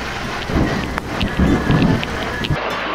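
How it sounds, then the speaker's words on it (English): Thunderstorm during a ride, steady rain hissing throughout with several deep rolling rumbles of thunder surging and fading, fairly loud and close, no voices. "Thunderstorm ride."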